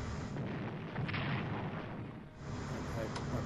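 Battleships fire artillery in the naval strategy game Strategic Command: World at War, a continuous rumbling barrage of booms blending into a dense, steady roar throughout.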